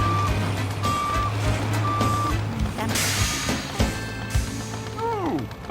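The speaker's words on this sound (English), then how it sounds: "Dumper reversing." A dump truck reverses on a construction site with a steady, repeating series of loud electronic reversing beeps over a rumbling engine, with an air-brake hiss and a short whistling sweep near the end.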